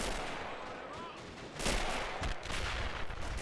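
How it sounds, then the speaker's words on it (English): Rapid bursts of gunfire and booming explosions crackle over one another in a dense, continuous battle din. "Oh, it's just explosions left, right, and center."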